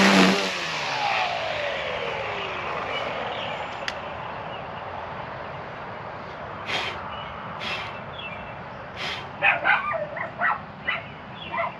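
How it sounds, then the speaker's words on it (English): Several short dog barks ring out in the latter half, following a vehicle passing and fading away; the barks are moderately distant and irregular. "Oh, the doggies are barking at me."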